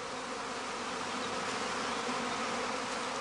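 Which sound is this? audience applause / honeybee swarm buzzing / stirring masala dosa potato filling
honeybee swarm buzzing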